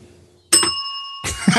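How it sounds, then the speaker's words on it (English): A bicycle-style bell rings twice up close, each strike a bright ding that sustains briefly, with faint background noise before the first. "Yeah, you can hit the bell."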